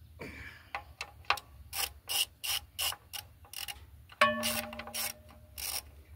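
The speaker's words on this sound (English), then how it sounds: "So I usually use a 1/4-inch driver on these. Been a while since I've done it manually." A 1/4-inch driver turned by hand on a Fairbanks Morse 208 oilfield engine during magneto installation, giving a series of close ratcheting clicks and rasping strokes in an uneven rhythm, then a metallic ring near the end.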